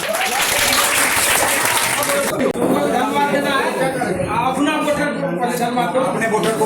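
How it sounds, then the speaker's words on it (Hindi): An audience at a gathering bursts into loud, dense applause that runs throughout, with a voice calling out over the clapping partway through. "जोरदार तालियों से स्वागत कीजिए"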